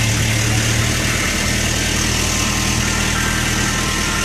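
A tractor engine idles steadily while towing, a loud, continuous low rumble with constant vibration and no break across the whole stretch.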